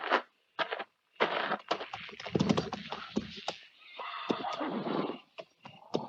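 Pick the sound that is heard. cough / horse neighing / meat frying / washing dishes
horse neighing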